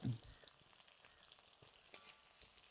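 Green chillies and curry leaves fry in oil for a mixed vegetable pickle, making a faint, steady sizzle with a short clatter at the start.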